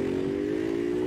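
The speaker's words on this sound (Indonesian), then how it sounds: "Ini kayaknya motor Evo ini." A Honda Revo motorcycle engine idles close by, a steady low humming drone with a faint rattle running through the whole short stretch.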